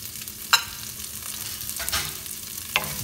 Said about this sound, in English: Just saute a little bit